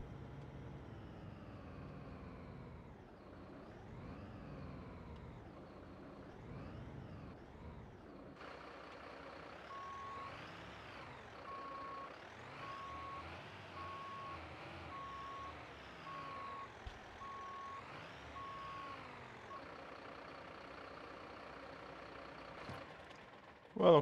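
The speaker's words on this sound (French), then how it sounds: "On va aller ranger le camion." A Paris fire brigade truck backs into its station, its reversing alarm beeping steadily for about twenty seconds over a low idling diesel engine, with faint voices in the background.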